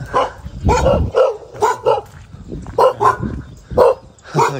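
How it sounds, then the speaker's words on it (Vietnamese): A dog barks repeatedly along a new village road at dawn, a string of loud, close barks in an uneven rhythm, with faint voices in the background. "chó"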